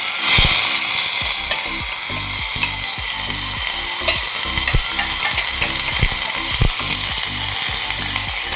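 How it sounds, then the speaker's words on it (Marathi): Washed dal and rice tossed in ghee over a cumin tempering give a steady, close sizzle, with quick rhythmic scrapes and clicks of the stirring spoon against the pan. No one speaks. "हे डाळ तांदूळ परतून घ्यायचं।"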